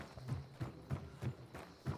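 Steady clip-clop of horse hooves at a walking pace in the video game Hunt: Showdown, six evenly spaced thuds over a faint background hum.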